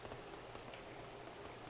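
Soft, steady patter of rain summoned by a rain dance in the PlayStation 2 game Rayman 2 Revolution, a faint continuous hiss of falling drops with no voices.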